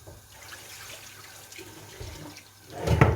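A tap runs at a sink while something is washed, a soft hiss of flowing water with faint clatter that swells into a louder splash near the end.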